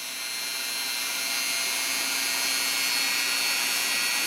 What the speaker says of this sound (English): let the Dremel do the work